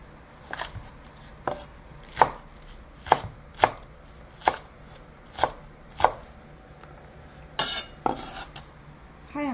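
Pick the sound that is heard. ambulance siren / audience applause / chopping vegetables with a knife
chopping vegetables with a knife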